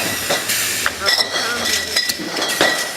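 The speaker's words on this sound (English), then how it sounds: "these actually clamp a cap down onto the bottle and out it" A bottle capping machine at the Oak Creek Brewery clamps caps onto bottles, giving busy clinks and metallic clatter over steady plant hiss and hum, with people talking nearby.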